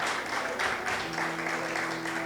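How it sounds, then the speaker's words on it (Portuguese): A church congregation applauds during an Easter service, a steady mass of hand claps from many people filling the room, with a faint sustained tone running underneath. "Vamos dar uma salva de palmas ao nosso Jesus, queridos."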